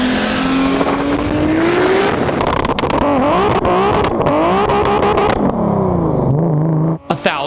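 A Mark IV Toyota Supra built with about 1,000 horsepower, big turbos and loud blow-off valves roars continuously, its engine pitch sweeping up and down through hard revs with sharp turbo chatter, very loud and close before cutting off near the end.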